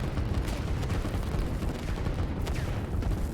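Artillery fire in the strategy video game Line War, a dense, continuous rumble of distant booms and gunfire rolling on without a break, with a couple of sharper blasts standing out.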